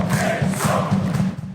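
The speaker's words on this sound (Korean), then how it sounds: "팬들도 환호를 보냈습니다." Football fans cheering for a player's comeback match, a loud, sustained crowd roar with rhythmic chanting pulses that fills the whole moment without a break.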